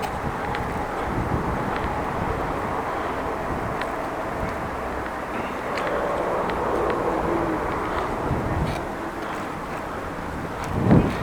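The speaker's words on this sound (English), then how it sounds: "A little bit of wind." Wind rushes steadily across the microphone during an outdoor bike ride through a city on a mild, partly cloudy day, a constant broadband buffeting that stays close and loud throughout with a brief gust near the end.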